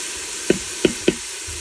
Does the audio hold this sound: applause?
no